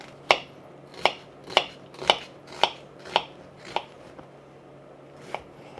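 A knife chops a large white onion on a board in a home kitchen, about nine crisp evenly spaced strikes with a slight pause before the last two.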